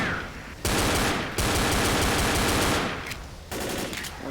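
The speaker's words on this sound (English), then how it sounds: "Bill fires the M16 sometimes in bursts" Sustained automatic rifle fire from Bill's M16 in the 2008 shooter Left 4 Dead, loud and close, with a short burst, a long continuous stream of rounds, then another burst after a brief gap, no talking.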